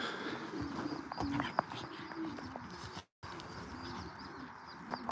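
Racing pigeons coo in a loft, soft low calls repeating through a busy background of rustling and shuffling, with a brief gap partway.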